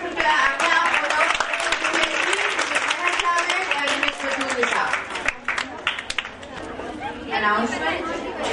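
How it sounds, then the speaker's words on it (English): A workshop audience at a Montessori training session applauds steadily for several seconds, with a dense wash of clapping mixed with crowd chatter. "let's end this session with a big round of applause"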